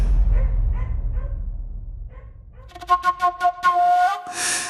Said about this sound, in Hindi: मारूक की ओर देखकर जोर जोर से भौंकने लगा।